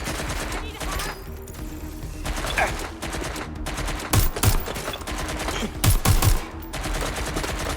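Bursts of automatic gunfire from the video game Watch Dogs Legion crackle in loud, repeated volleys, with heavier clusters of shots in the middle and end, mixed with game ambience.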